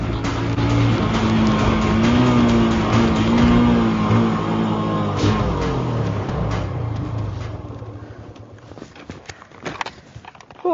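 A TVS Apache RTR 160 FI motorcycle pulls hard at full throttle, its engine note climbing steadily through the revs close by, then fading and dropping away near the end.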